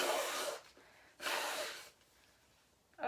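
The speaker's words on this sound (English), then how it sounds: "I have got to blow my nose." Someone blows their nose at a craft table, giving two short, breathy nasal blasts separated by a pause, followed by a brief third sniff, quiet and close with no talking.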